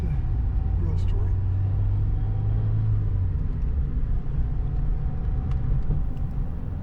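A car drives along a road with a steady low rumble and road noise throughout, heard from inside, with no sharp events over its length.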